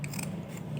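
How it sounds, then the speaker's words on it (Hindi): Scissors snip through folded paper for a wall-hanging craft, a few quick, quiet metallic bites close up with no talk. "कैंची की मदद से जो भी शेप देना चाहें वो आप दे सकते हैं।"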